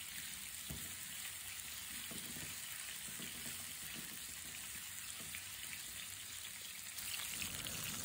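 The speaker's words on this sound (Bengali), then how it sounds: "পেঁয়াজ, রসুন, কাঁচামরিচ এগুলোকে ভেজে তারপর করলাগুলো দিয়ে দিলাম" Bitter gourd fries in a pan with onion, garlic and green chilli, making a faint, continuous hissing sizzle. Scattered small pops and clicks run through it, and no one speaks.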